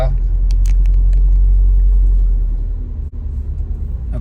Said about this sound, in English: let me start driving